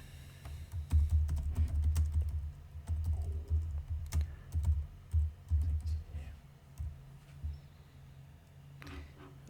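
Rapid typing on a computer keyboard while writing trading-bot code, with clustered bursts of close key clicks and short pauses between runs.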